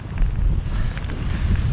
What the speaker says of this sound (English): and it's howling windy.